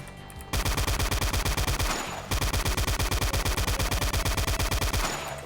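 Chain gun in the classic shooter Doom firing in long rapid sustained bursts, a loud, even rattle of shots briefly broken by one pause before the stream resumes.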